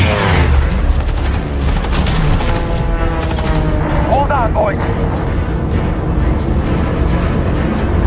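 Machine guns fire from the gunners of a World War II bomber fighting off German fighter planes in an air battle, a dense, continuous, loud rattle with booming under it and voices talking over the din.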